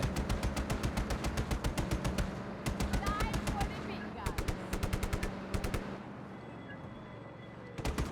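Rapid machine gun fire from a mounted gun in the video game Just Cause 3, loud bursts of evenly spaced shots with short pauses between them, over engine and ambient game noise while people talk.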